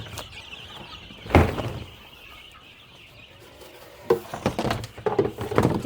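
A rooster and chickens cluck on a homestead in spring thaw, with a sharp burst of clucking and wing movement early on and a run of louder, closer clucks toward the end, over quiet outdoor background.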